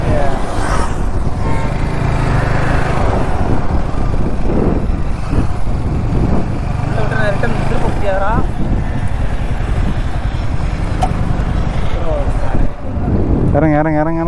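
Steady, loud wind buffets the microphone while riding a motorbike on an outdoor trip, a continuous roar with engine hum beneath people talking and calling out throughout.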